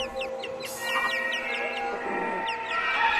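Hens cluck and murmur in a barnyard, with a rooster-like call and scattered bird chirps over a steady background hum, the clucking close and continuous.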